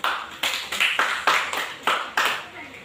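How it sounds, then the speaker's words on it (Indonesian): A classroom group claps in unison for their classmates, about nine evenly spaced claps of moderate loudness at close range. "Beri aplaus dulu terhadap teman-teman."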